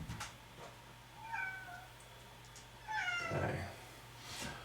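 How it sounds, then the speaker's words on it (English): A house cat meows several times in a quiet yoga room, drawn-out nasal cries spaced a second or two apart, close by and moderately loud, with a brief spoken word in between. "I have a cat who, if I don't let her in here to be with me, will probably just be at the door meowing the majority of the time"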